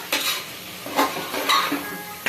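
Country chicken (nattu kodi) frying with spices in a pan, a steady close sizzle broken by scraping stirs at regular moments, with no voices.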